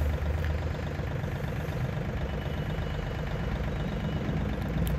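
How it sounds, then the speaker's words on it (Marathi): A Mahindra OJA 2127, a 27 HP tractor, idles nearby with a steady, even engine drone and faint vibration that runs unbroken throughout, with no voices over it. "तुम्हाला ट्रॅक्टरचा कसा आवाज आवडला तुम्ही कमेंटमध्ये सांगू शकता"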